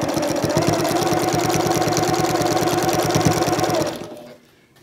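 A sewing machine running steadily and loudly up close as it stitches binding onto a quilt, its rapid rhythmic needle chatter holding constant for about four seconds before it stops abruptly.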